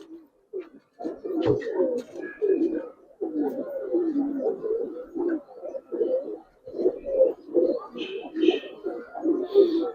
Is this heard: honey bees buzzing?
no